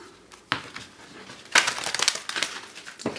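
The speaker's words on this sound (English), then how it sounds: "One more shuffle." Tarot cards get one more shuffle by hand, a few crisp papery riffles and crinkles in quick bursts, close up and with no talking.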